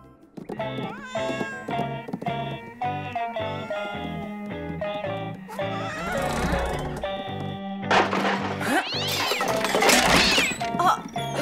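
A cartoon cat meows repeatedly in a long series of drawn-out, wavering cries, loud and close, building into more strained caterwauling toward the end with busy background sound.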